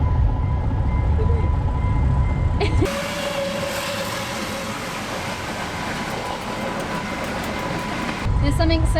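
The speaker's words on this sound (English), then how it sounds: "watching the train come through" A train rumbles past nearby, a continuous rolling roar with a low hum, starting and ending abruptly.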